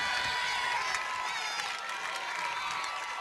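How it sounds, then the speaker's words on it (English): At a high school softball championship game, a crowd cheers and claps after a fielding error, a broad roar of voices and applause heard at moderate distance. "the Terra crowd comes to life"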